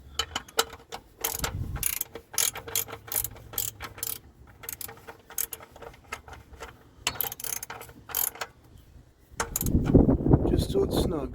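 A socket wrench ratchets while snugging a part during an oil pressure switch and oil filter change on a 2003 Ford Explorer with a 4.6 L V8, giving close, rapid clicking bursts in several runs, followed by a louder rustling clatter.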